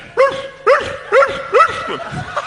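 Dogs bark in a steady series of four or five sharp, evenly spaced yips close by, ending in softer, thinner barks.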